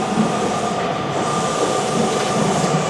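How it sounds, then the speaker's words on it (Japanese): Hanshin Railway section express train bound for Osaka-Umeda arriving at a station, a steady loud rumble of wheels and motors with a faint high squeal running through, close by and without talking. "到着の電車は大阪梅田行き区間急行です"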